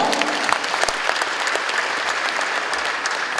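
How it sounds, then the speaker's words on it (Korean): An audience at a large Ansan citizens' forum applauds in a dense, continuous round of clapping that holds steady from start to finish. "박수 한번 부탁드리고요."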